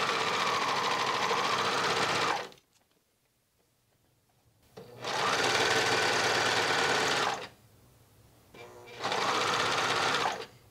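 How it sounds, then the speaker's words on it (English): A serger sewing machine trims and finishes a fabric edge while sewing a headband, whirring in three loud, fast-running bursts with quiet pauses between them. "I like to have my serger cut at least a little sliver off as it goes through."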